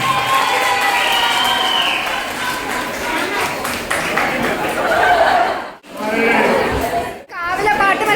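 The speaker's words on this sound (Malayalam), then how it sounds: "എല്ലാവരും നിറഞ്ഞൊരു കൈയടികൾ കൊടുക്കുന്നതാണ്." Applause and cheering from a school audience at an Onam celebration at Trinity Lyceum, Kollam: a dense, steady wash of clapping and crowd noise with voices mixed through it, dipping briefly twice before swelling again.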